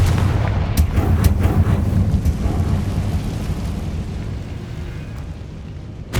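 Confringo blasting spells go off in the Hogwarts Legacy video game, heavy booming explosions with rumbling roars and a few sharp cracks over about six seconds, loud and dense throughout.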